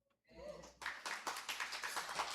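An audience breaks into a burst of scattered clapping that swells into steady applause, fairly faint and heard from across a hall.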